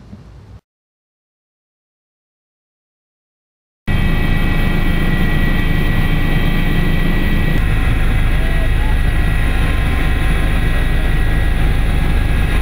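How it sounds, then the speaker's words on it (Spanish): A firefighting helicopter sent out to put out a blaze roars loudly and continuously with heavy rotor and engine noise, close by, after a short silent gap. "el presidente Evo Morales inmediatamente ha autorizado la salida de este helicóptero para poder sofocar el incendio"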